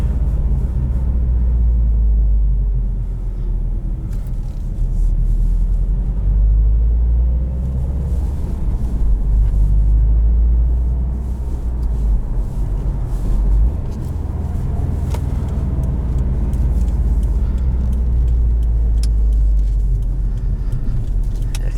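A 2019 Subaru WRX STI with a turbocharged engine pulls hard, a loud, continuous low rumble from inside the car that rises and swells under acceleration with no talk.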